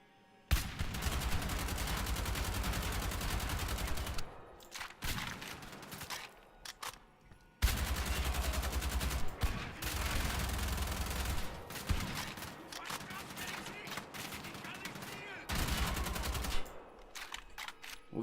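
Shock Hammer weapon from Wolfenstein: The Old Blood firing in long, loud bursts of crackling, buzzing discharge, broken by a few short pauses, with no talking over it.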